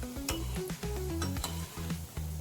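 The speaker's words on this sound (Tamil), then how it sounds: "கொஞ்சம் கொஞ்சமாக போட்டு பொறிச்சு எடுத்துக்குவோம்" Gulab jamun frying in hot oil in a pan, a close sizzle broken by brief clinks from a spoon turning them.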